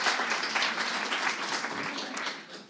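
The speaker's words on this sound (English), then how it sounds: "Give it a big applause." Sustained audience applause at a tech meetup talk, a continuous wash of many hands clapping at moderate volume that tapers slightly toward the end.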